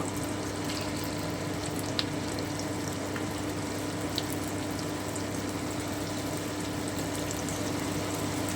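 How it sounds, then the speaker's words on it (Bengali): Paneer kofta balls fry in hot oil with a steady, even hiss that runs unbroken throughout, over a low constant hum and a few faint pops. "এবারে আমি বলগুলোকে দিয়ে দিচ্ছি। আমি বেশ একটু হালকা ব্রাউন করে ভেজে নেব।"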